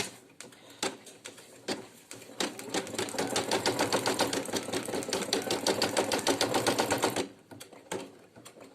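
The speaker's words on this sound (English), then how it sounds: "it's doing the tack down stitch of the fabric" A Brother PE800 embroidery machine sews a tack-down stitch on fabric for a minky appliqué, a rapid, even needle clatter that runs for several seconds between scattered clicks, then stops.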